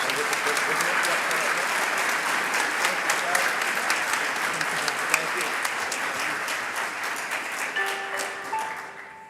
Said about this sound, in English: So let's give him a good round of applause and that as he comes to the stage